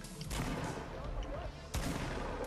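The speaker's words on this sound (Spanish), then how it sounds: "Es que estoy escuchando muchos tiros," Rapid gunfire from a Fortnite squad match, with dense bursts of shots and booms throughout and two sharp louder blasts, close and busy.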